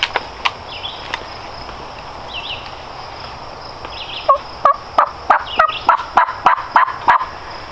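A wild turkey gobbler in a late-season New Hampshire hunt, gobbling close and loud with a rapid run of clipped calls over steady insect buzz outdoors.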